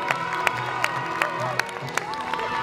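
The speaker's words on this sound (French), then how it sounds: "pouvez encore les applaudir, plus fort que ça" Audience at an ice show in Montargis cheering and clapping, with a few sharp claps and shouts standing out over a lively crowd at moderate distance.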